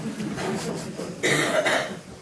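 A single short cough, close and fairly loud, following a breathy throat sound.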